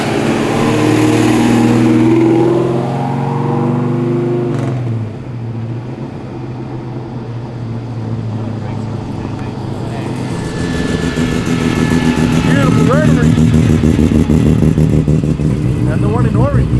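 XW muscle car engine idling and revving at a car show by a stadium, a deep rumbling engine note under people talking, rising and swelling in the second half as it revs.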